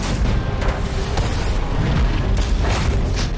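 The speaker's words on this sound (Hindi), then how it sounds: "और पहाड़ों की चोटियों पर तोपों की गड़गड़ाहट।" Heavy, continuous rumbling booms of artillery guns on mountain peaks, loud and dense, like a barrage rolling without pause.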